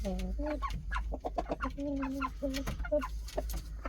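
An Indian breed rooster clucks and crows close by in a string of throaty, rhythmic calls, loud and clear with a low hum underneath.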